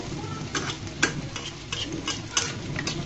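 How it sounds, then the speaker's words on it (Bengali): Watermelon-rind snacks frying in oil make a soft, continuous sizzle with scattered ticking clicks from a utensil, close by and fairly quiet, with no voices. "নাস্তাগুলোকে একটু ধৈর্য ধরে ভেজে নিতে হবে।"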